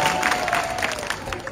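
Audience applause from a crowd at a Suwasra political rally, a steady continuous clatter of clapping with faint crowd murmur mixed in.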